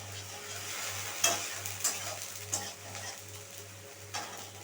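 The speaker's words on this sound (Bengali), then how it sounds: "এই আদা আর কাঁচা লঙ্কা বাটাটা একটু ভালো করে মিশিয়ে নিতে হবে একটু ভালো করে কষিয়ে নিতে হবে" Ginger and green chili paste cooking in a pan over a medium gas flame, with a low steady sizzle and a few sharp scrapes of stirring, plus a constant low hum underneath.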